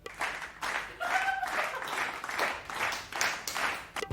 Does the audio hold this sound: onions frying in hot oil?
no